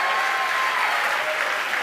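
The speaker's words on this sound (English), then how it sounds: "the crowd here at SpaceX is extremely excited" A large crowd at SpaceX applauds and cheers steadily after a satellite launch, a dense continuous wash of clapping with no pauses.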